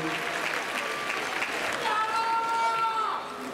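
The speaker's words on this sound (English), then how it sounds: "Give a nice round of applause to everybody that came out for you today" Steady crowd applause fills an arena at a high school cheer competition awards ceremony, a continuous wash of clapping with a faint whistle or tone riding over it.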